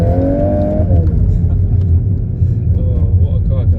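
A Volkswagen Golf R MK8 engine revs hard while driving, a loud rising rumble that drops off after about a second into a steady deep drone with a slight second climb.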